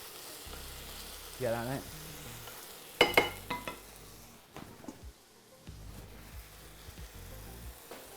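A vegan tofu scramble fries and is stirred in a pan, with sizzling and scraping spoon strokes close by, broken by sharp clatters and a brief spoken line.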